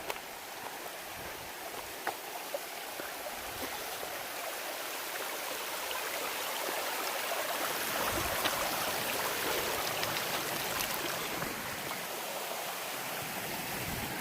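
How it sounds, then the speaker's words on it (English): A small mountain creek rushes at a trail crossing on the Appalachian Trail near Winding Stair Gap, a steady broadband babble of flowing water, close and continuous throughout with no talking. "Nice little creek crossing here, coming down the winding stair gap."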